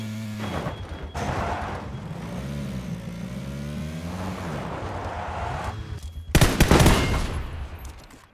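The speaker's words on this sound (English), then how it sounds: "That was me. I shot out the tires." A rapid burst of gunfire in PUBG rips out a vehicle's tires near the end, following a steady, rising car engine drone that runs underneath most of the clip.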